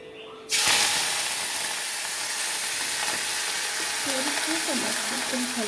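Tempering spices drop into hot oil for mushroom gravy, setting off a sudden loud sizzle that holds steady as a continuous bright frying hiss, with faint popping and crackling near the end.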